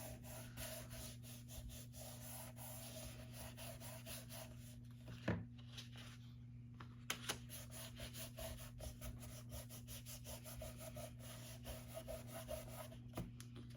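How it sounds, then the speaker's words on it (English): A wooden craft piece having its edges rubbed, a faint steady scratchy rubbing over a constant low electrical hum, with a couple of small knocks. "Try and get a good rub on those edges."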